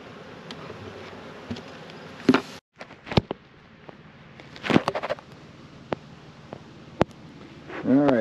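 Honey bees buzzing around an opened hive, a steady close hum under scattered clicks, knocks and handling noises as the hive parts are moved, with a louder whirring pass at the end.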